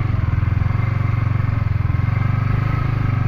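A motorcycle engine idling or running steadily at an RTO driving test trial ground, a loud, close, rapid low pulsing putter with an even rhythm and no talking.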